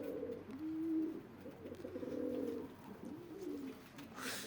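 Pigeons cooing softly nearby in low, rolling repeated calls, with a faint background hiss and no talking.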